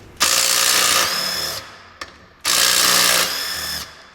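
DeWalt DCF813 12V cordless 3/8-inch impact wrench runs fasteners in two loud, close bursts of about one and a half seconds each, with a short blip between them.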